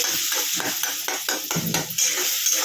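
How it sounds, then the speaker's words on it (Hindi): Tomatoes fry in a pan over a low gas flame with a steady sizzle, while a spoon scrapes and stirs through them in repeated strokes, close and continuous. "अच्छी तरह टोमेटो को हमको मिक्स कर देना है।"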